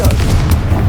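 A Confringo explosive spell bursts in Hogwarts Legacy as a loud, deep, close boom that fills the whole brief moment.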